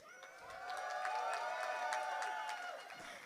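Wedding reception guests give the bride and groom a round of applause, a soft crowd of scattered clapping with light cheering that swells and then fades over a few seconds.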